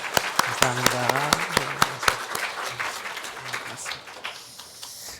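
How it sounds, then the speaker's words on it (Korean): A church congregation at Sunday worship claps in loud, sharp, fairly regular claps that taper off toward the end. A person speaks briefly over the clapping. "네, 박수로"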